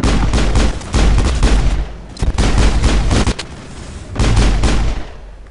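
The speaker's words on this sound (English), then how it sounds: "Who is firing crap at me like this? That's a sniper." Heavy gunfire erupts in the space shooter game Mass Effect, with loud sharp bursts and booming volleys coming in three clustered waves, close and unbroken by speech.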